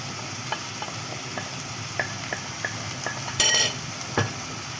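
Pasta is stirred in a sizzling pan before garlic and pepper go in. Soft sizzling runs underneath sparse spoon taps and scrapes, and a brief louder hiss comes near the end with no talk.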